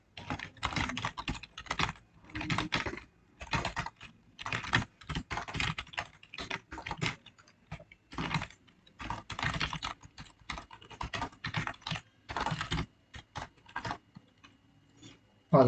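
Steady typing on a computer keyboard while writing C++ and Java code, bursts of rapid key clicks separated by short pauses, close and clear throughout.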